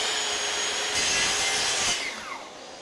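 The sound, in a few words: hand plane shaving end grain of wood edge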